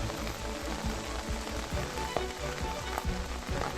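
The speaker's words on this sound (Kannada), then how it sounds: "ಒಳ್ಳೆ ಮಳೆ ಬರ್ತಾ ಇದೆ ಬೆಳಿಗ್ಗಿಂದಲೇ" Heavy rain pours in Kodagu as a dense, steady hiss, with scattered louder drops pattering nearby throughout.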